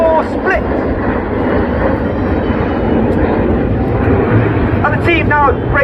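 Aerobatic display jets flying the 5-4 split at a seaside airshow, a steady loud engine roar filling the whole stretch, with faint voices over it near the start and end.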